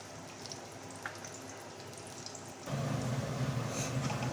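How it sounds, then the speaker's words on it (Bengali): Onion and garlic frying in mustard oil, quiet at first and then a louder, denser sizzle once the pieces hit the pan, steady and close for the rest. "পেঁয়াজ রসুনটা ভেজে নেব লাল লাল করে ভেজে নেব"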